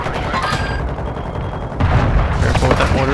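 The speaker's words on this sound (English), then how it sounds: "Careful with that mortar." A mortar strike explosion in a video game lands amid loud gunfire-like booms and a rumbling impact, dense and close, with a deeper blast swelling near the end.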